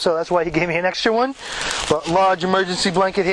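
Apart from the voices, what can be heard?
No distinct noise like a dog, phone or traffic.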